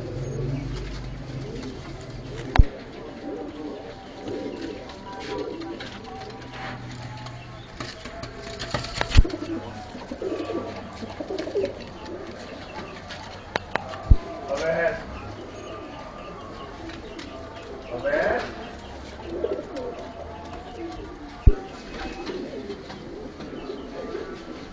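English fantail pigeons cooing in a loft setup, repeated low throaty coos over about twenty-five seconds with occasional wing flaps and sharp knocks, fairly close and clear, with faint distant voices in the background.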